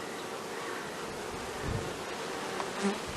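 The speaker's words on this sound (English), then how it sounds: "Here's a frame full of honey as well, with a bunch of bees doing their thing." Honey bees swarm over a heavy, honey-filled hive frame during an April hive inspection, a steady close insect hum that swells slightly as the frame is turned.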